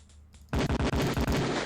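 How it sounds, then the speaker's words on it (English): Rapid volley of pistol gunfire on a police shooting range in the video game Police Quest 4, a loud run of about eight closely spaced shots starting abruptly after a brief quiet moment. "So that's the shooting sequence"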